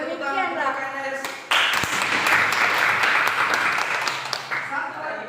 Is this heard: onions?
no